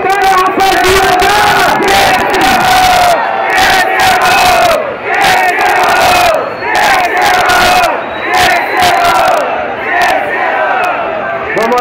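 A crowd at a freestyle rap battle, an MC duel at the Roda da Rocinha in Brazil, roars and chants loudly in rhythmic bursts of shouting and whooping, close and continuous, with a host shouting over it.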